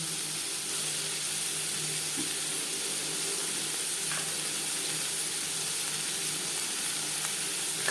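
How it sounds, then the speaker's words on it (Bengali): Chopped onion frying in oil in a pan for a mutton liver curry with potato, a steady, loud, close sizzle that runs unbroken throughout with no talk. "দিয়ে দিলাম পেঁয়াজ কুচি"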